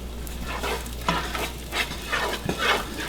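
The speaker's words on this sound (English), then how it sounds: "Ah, there's a little bit of sizzle." Garlic and onions sizzle in hot oil while a utensil stirs them around the pan, giving a steady crackling hiss broken by a few scraping strokes, close up and with no talk.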